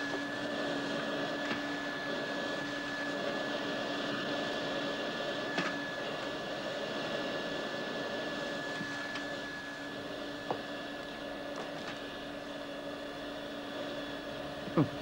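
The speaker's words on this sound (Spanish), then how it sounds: "Su madre me dijo que pasara la aspiradora y es lo que estoy haciendo" A vacuum cleaner runs steadily indoors, giving a constant motor drone with a whirring tone throughout and a few faint knocks near the end; no voices.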